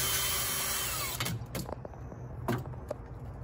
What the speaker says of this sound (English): I'm gonna keep my drill in forward, but I'm gonna pull my drill out, and this will help clean the hole out.